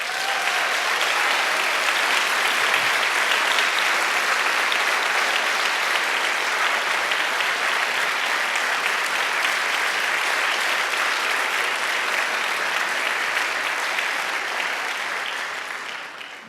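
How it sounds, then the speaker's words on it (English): An audience at a David Lynch Foundation event on Transcendental Meditation applauds honorees Rona and Jeffrey Abramson with dense, sustained clapping that stays loud throughout and tapers slightly at the end. "please give an amazing round of applause for"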